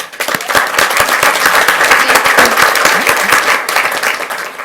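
An audience at a school board meeting applauds loudly and steadily, full of individual sharp claps. It runs without a break and fades slightly toward the end.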